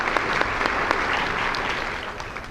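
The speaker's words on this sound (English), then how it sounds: "So they deserve a round of applause for putting together such an amazing" An audience at a keynote speech breaking into steady applause, dense continuous clapping from many hands filling the room at an even, sustained level.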